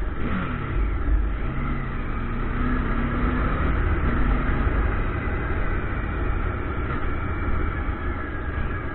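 Motorcycle engine droning steadily and loudly while riding, a KTM Duke 390 or Bajaj Dominar 400 on roads in Goa, with continuous wind rush and no talking.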